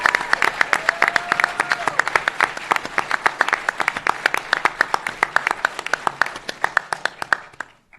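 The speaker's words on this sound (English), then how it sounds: "Can we have another round of applause for both the participants?" A university law school moot court final audience claps loudly and steadily, individual hand claps sharp and close, sustained for the whole stretch before tapering at the very end; a faint voice may sit beneath.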